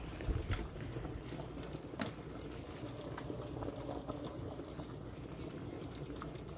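Pot of spaghetti boiling on a stove, a faint, continuous bubbling roll with soft irregular pops and a low rumble, steady throughout with no talking.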